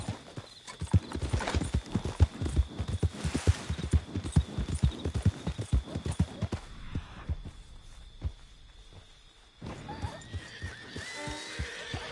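Horse hooves clip-clop in a steady, close rhythm in Red Dead Redemption 2, with a whinny along the way; the hoofbeats fade toward a quiet lull, then pick up again briefly near the end.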